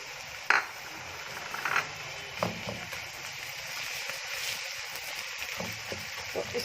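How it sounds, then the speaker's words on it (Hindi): Garlic and ginger paste fries with softened onions in a pan for an Achari aloo baingan dish, giving a steady low sizzle with occasional utensil clinks and stirring scrapes close by. "तो इसको हम तकरीबन 2-3 मिनट के लिए फ्राई करेंगे।"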